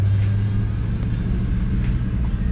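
A Toyota Tacoma pickup with big mud tires rolls past close by on a muddy 4x4 trail. Its steady low engine rumble and drone hold throughout with slight swells, and no one speaks.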